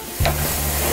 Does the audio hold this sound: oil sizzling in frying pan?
yes